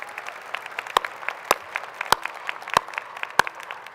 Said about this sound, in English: let's give all the faculty and staff one more round of applause